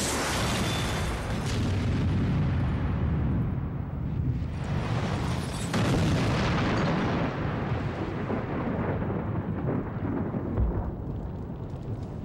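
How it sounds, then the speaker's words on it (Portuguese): A strong combustion explosion set off by a 75 millijoule spark produces a loud, sustained roaring rumble that lasts the whole twelve seconds and swells in two broad waves, with no voices. "Finalmente tivemos uma combustão bem forte com 75 milijoules"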